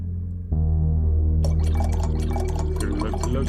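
Liquid glugging and pouring from a bottle in the video game Tormentum II, a low steady tone jumping louder, then a bright splashing trickle layered over it to the end.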